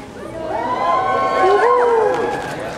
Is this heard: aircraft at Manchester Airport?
no